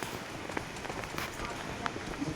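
Rain falling steadily on a surface, a soft continuous patter with a few sharper drop hits, fairly faint and unbroken, and no clear speech.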